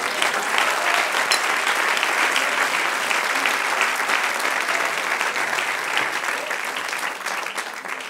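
A church congregation gives a sustained, dense round of applause during a sermon, with many hands clapping in a loud, even wash that holds steady and tapers slightly near the end.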